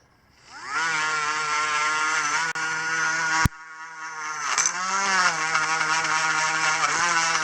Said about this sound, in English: So I'm just cleaning it up with the wire brush here on my Dremel tool.